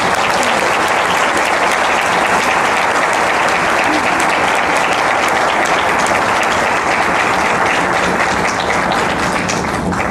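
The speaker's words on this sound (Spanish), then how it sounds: "Brindémosle un aplauso" Sustained applause from the audience at a book presentation in Mexico, dense and loud clapping continuing evenly for the whole stretch with no pause.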